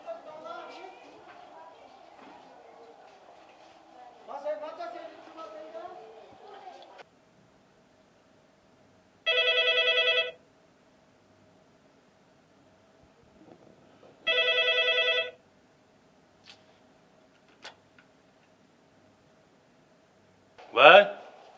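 A telephone rings in two loud electronic bursts a few seconds apart, after a stretch of people speaking, and is followed by further voices near the end.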